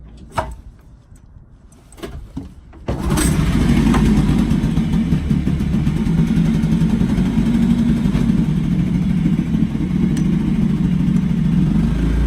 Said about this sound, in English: Motor, it's really noisy, but at least it's fine,